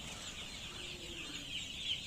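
Chicks in a brooding partition at a poultry farm give a dense, continuous high-pitched chirping chorus, steady and moderately loud throughout with no talk.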